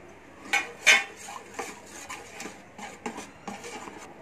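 A spoon stirs pumpkin buttermilk curry in a pot over low heat, clinking against the sides several times with soft scraping and rubbing between the clinks, moderately close and free of talk.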